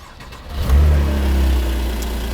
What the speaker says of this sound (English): Car starts right up, idles well.